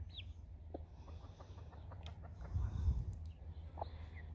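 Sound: baby chicks in the yard

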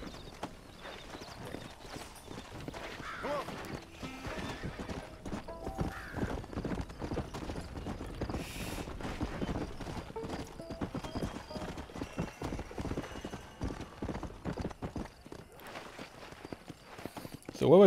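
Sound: horses in a video game

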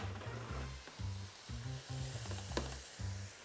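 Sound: celery and carrot sautéing in a pan

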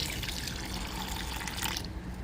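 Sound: water from soaked urad dal poured into mixer jar

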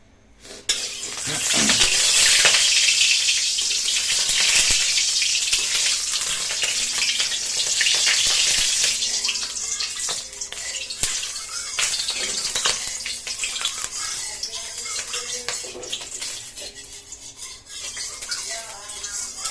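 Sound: eggs frying in a hot pan

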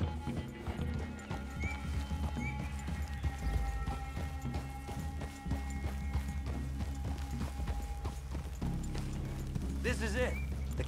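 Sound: horses clip-clopping and neighing in Red Dead Redemption 2 video game

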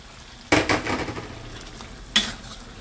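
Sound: Dutch onions and bird's eye chillies frying in a pan

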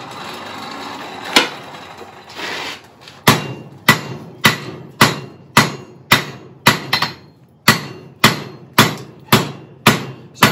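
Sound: blacksmith hammering metal, drawing out a square taper

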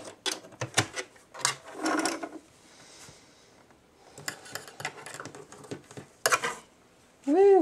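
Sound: sewing machine backstitching a fabric mask

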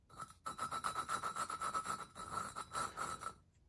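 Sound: hand lapping engine valve in Chinese ATV cylinder head

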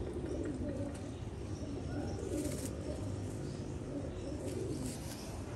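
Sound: pigeons cooing

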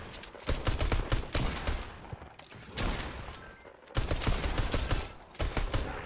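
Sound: gunfire in Fortnite Creative video game

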